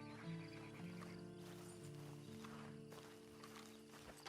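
Horse hooves clip-clop in a steady walking rhythm in Red Dead Redemption 2, fairly faint, with a sustained musical drone underneath.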